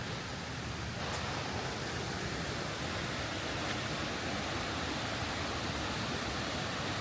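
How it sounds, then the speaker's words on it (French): A hot spring on Flores with a strong flow of water gushing from the ground, heard as a loud, continuous, close rushing roar with no pauses and no voices. "il y a aussi un débit assez hallucinant pour une source d'eau chaude"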